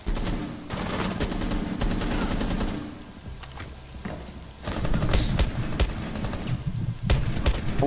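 Gunfire in the Call of Duty Black Ops shooter game: dense, loud bursts of automatic fire, easing off briefly midway and then resuming in rapid volleys, with no talk over it.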